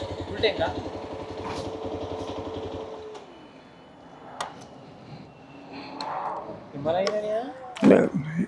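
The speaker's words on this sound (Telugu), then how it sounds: "ఓకే, 6 గేర్లోనే ఉంది. ఎక్కువ రెవ్స్ ఏమి ఇవ్వట్లేదు, స్మూత్గా వెళ్తున్నా." A Yezdi Adventure 2025 motorcycle cruises in sixth gear at low revs, its engine a steady, fairly close putter that fades midway, while wind and road noise rise and a few short thumps break through near the end.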